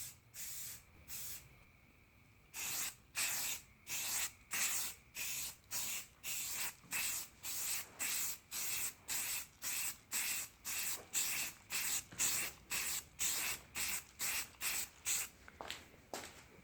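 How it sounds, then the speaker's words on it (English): Aerosol can spraying paint onto car parts in even misting passes, a steady run of short, loud hissing bursts with brief gaps between them, close and alone with no talk. "You just want to get a nice even misting across, and you're just going to want to build up your layers."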